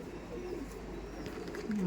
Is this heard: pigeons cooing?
yes